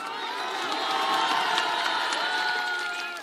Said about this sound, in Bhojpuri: अब जकरा जकरा ये बुझाई ताली बजा सकेला